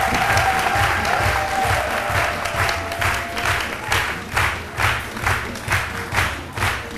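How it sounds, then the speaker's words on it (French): A studio audience at a midday TV show applauds a guest singer, a loud dense burst of clapping that settles into rhythmic, evenly spaced claps in unison, with no talk over it. "encore une fois, des applaudissements pour notre invité"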